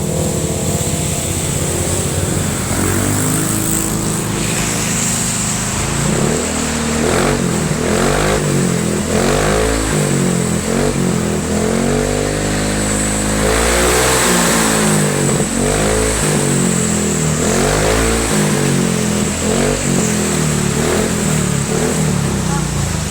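A nearby motor scooter with a stock engine and a full-filter aftermarket exhaust revs up and down repeatedly with a throaty exhaust rumble, loud throughout, while a person talks over it.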